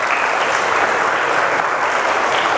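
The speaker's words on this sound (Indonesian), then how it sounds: "kita berikan aplaus untuk kita semua" A seminar audience at UIN Raden Mas Said Surakarta claps together in loud, sustained, dense applause that fills the room without a break.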